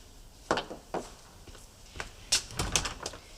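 A door opened to let in a visitor, heard as a few soft knocks and clicks of the latch and handle with light movement around it, fairly close and quiet in an indoor room, with no talk over it.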